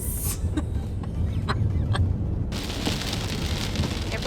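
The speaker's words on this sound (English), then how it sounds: "Everywhere we go, we bring the rain." Rain patters steadily on a surface while driving along a new Jamaican highway, a dense hiss with scattered drop impacts that swells noticeably louder partway through.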